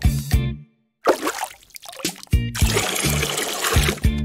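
Water is poured in a few short splashing bursts separated by brief pauses, fairly close and clear, with no talking over it.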